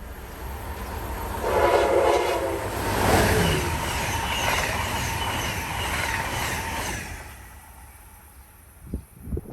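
An Amtrak Northeast Regional train hauled by an ACS-64 electric locomotive passes at speed on the Northeast Corridor, a rising horn blast followed by a loud rushing roar of cars that fades out, then a few sharp rail clicks.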